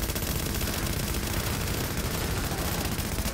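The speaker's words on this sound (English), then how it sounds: "I've been shooting him in the ass." Rapid, loud automatic gunfire from shooting an enemy in The Division video game, a continuous dense stream of rattling shots close up, with no speech.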